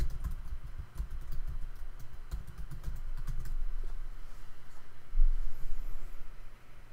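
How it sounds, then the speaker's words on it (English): Someone types steadily on a computer keyboard, a run of quick close key clicks over a low background hum that fades to fewer taps toward the end, with no talking. "And type in your website."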